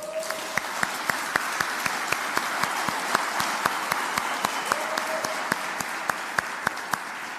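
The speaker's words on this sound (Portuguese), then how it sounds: "Dá uma salva de palmas para eles." Steady applause from a lecture audience fills the space, with sharp individual claps standing out in a loose rhythm throughout.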